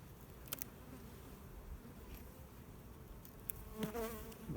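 Honeybees buzzing in an opened hive during a spring inspection, a steady soft swarm hum close by, with a few faint clicks and frame scrapes, no talking.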